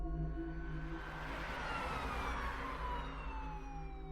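An ambulance siren wails at a distance, quiet and steady, its tones gliding slowly over a low rumbling bed with no one speaking.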